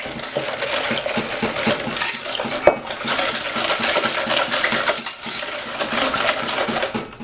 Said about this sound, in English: We have our measured granulated sugar that I measured out on the scale. And we're going to whisk those together.